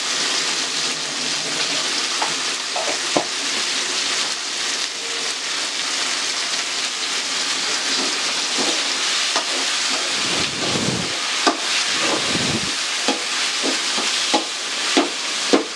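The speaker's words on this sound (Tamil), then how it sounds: "நல்லா இந்த தக்காளி வெந்து நல்லா குழஞ்சி வரணும்ப்பா." Tomatoes frying in hot oil with turmeric powder for a Tamil kara kuzhambu, a steady dense sizzle and hiss throughout with occasional small pops and crackles, close and fairly loud, no talking.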